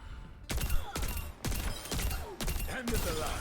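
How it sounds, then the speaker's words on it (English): Synthetic burst rifle in the Overwatch video game, firing sharp three-round volleys at steady intervals, loud and close, with faint game sounds between bursts. "with a new synthetic burst rifle, which does 60 base damage"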